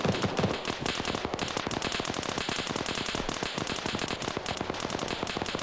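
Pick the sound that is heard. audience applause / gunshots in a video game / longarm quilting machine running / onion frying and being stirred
gunshots in a video game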